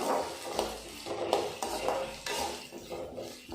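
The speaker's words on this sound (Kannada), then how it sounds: "ಈಗ ಇದನ್ನು ಒಂದು ಸರಿ ಚೆನ್ನಾಗಿ ಮಿಕ್ಸ್ ಮಾಡಬೇಕು" A spoon scrapes and clanks around a pan while fried onion, mustard seeds and curry leaves are stirred for village-style upsaru, with a soft sizzle beneath. The close, rhythmic strokes repeat about every half second.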